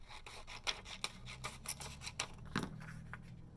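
Scissors trimming a paper banner, a quiet series of quick snipping and rustling strokes close by.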